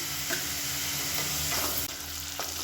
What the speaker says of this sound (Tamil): புதினா மல்லி எல்லாம் ஓரளவுக்கு வதங்கிடுச்சு.